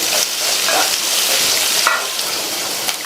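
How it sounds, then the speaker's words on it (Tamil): Onions sauté in oil in a pan with a loud, continuous sizzle, broken by occasional stirring scrapes. "இந்த வெங்காயத்தை 2 நிமிஷத்துக்கு நல்லா எண்ணெயிலேயே வதக்கி விட்டுக்கோங்க."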